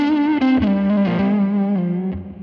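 Electric guitar run through spring reverb and a tape machine emulator, playing sustained, slightly distorted chords with a chorus-like shimmer and a few re-struck notes, loud and close with no talk.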